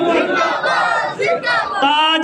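A gathered crowd at a Mehfil-e-Milad in a Mansehra market answers a religious slogan with a loud unison shout, several surging chanted bursts close together with brief dips between them.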